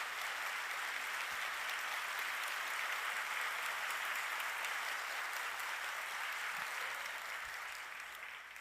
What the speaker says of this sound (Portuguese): merece o nosso aplauso